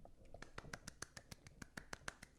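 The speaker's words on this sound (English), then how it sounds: "I can clap with one hand" One-handed clapping, a run of about a dozen sharp, quick slaps in a fairly steady rhythm, heard close and quiet.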